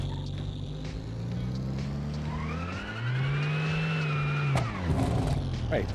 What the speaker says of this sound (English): Oh, the supercharger comes on.